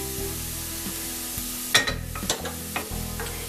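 Onions and garlic sizzle and fry in a pan, a steady broadband hiss running throughout with a few sharper clinks and stirring scrapes near the middle, close and moderately loud with no talking.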